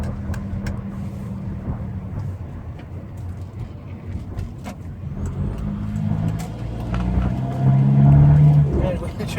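A 2005 Volkswagen Jetta Wagon TDI diesel pulls away at low speed, its engine drone and road noise rising steadily inside the cabin as it gains speed, with someone talking over it.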